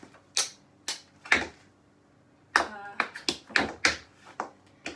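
Tap dance shuffle steps: sharp taps and scuffs on a hard floor, a brief quiet gap, then a quicker run of light percussive steps in uneven rhythm.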